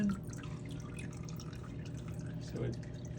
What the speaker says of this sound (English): so it drips off the bottom.